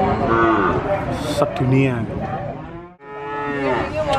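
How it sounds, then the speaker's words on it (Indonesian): Cattle at a busy livestock market in Sragen, Central Java, moo several times in long, drawn-out calls, some close and loud, with a person speaking and crowd noise around them. "sapi paling murah"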